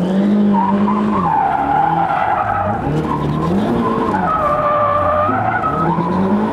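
A drifting car squeals its tires continuously, with engine revs rising and falling as the clutch is kicked to lift them, all loud and close as the car circles.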